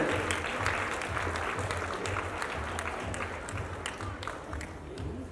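Sustained applause from an audience at a stage event for the Sigaram Charitable Trust team, dense steady clapping throughout with a faint crowd murmur.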